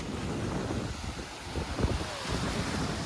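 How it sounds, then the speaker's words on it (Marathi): Sea waves roll in at Tarkarli beach as a steady roaring wash of surf, with heavy wind buffeting the microphone throughout and no talking. "मस्त लाटा येतात काही इथे."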